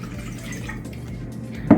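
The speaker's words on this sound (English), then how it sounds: "We're going to add 2 cups of water" Two cups of water pouring steadily into a container for pickle brine, a low continuous gurgling fill that ends with a small splash.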